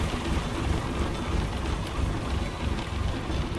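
Heavy rain in Euro Truck Simulator 2 while driving a Magirus Deutz 19/22D truck, a dense steady patter drumming on the cab over a low engine rumble, no speech.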